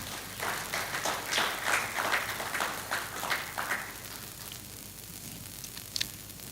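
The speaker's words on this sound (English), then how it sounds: "Please, a round of applause for" An audience at a water and climate summit claps in a burst of applause that fills the room and then thins out into scattered claps.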